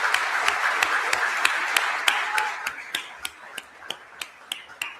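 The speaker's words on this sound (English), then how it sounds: "And also big round of applause" Conference audience applause, a dense burst of many hands clapping that thins over a few seconds to a handful of sharp, evenly spaced single claps, fairly close and loud.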